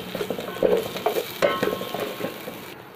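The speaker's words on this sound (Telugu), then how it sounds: "పచ్చివాసన పోయే వరకు వేయించుకోవాలండి మన అల్లం వెల్లుల్లి పేస్ట్ని" Ginger-garlic paste frying with pepper in a pan, a steady close sizzle broken by repeated scraping stirs, with no voices.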